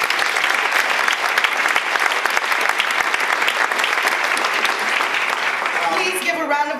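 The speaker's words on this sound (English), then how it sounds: "Please give a round of applause for this round" Audience applause at a Haitian roundtable event, a dense, sustained clapping that fills the room and fades toward the end as a voice begins talking.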